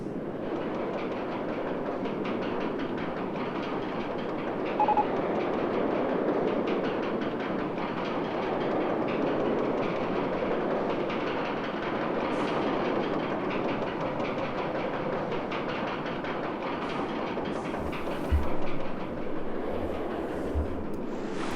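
Roller coaster trains rolling along in the OpenRCT2 video game, a steady rumbling, clattering wash of track noise that holds for a long stretch with a few brief knocks near the end.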